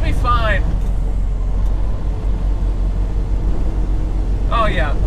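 Steady low road rumble and tire roar inside a car merging onto a fast highway, continuous throughout, with a voice speaking briefly at the start and again near the end.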